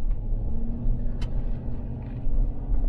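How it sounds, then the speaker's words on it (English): A 10-passenger van's engine rumbles steadily from inside the cabin on its first drive, a low continuous drone with one brief sharp click partway through. "All right, here we go. First ride in the van."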